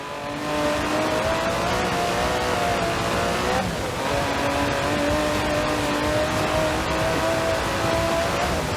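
A 5.2-litre twin-turbo V12 Aston Martin DB11 in the racing video game Forza Horizon 4 drones loudly and steadily under sustained revving, with a slight dip midway before holding at full intensity.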